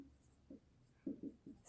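Pen strokes scratching across paper during a maths lesson on common factors, a few short bursts of writing, quiet and close.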